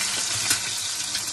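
Food frying in a pan, a steady bright sizzle running continuously for a brief moment with no talking.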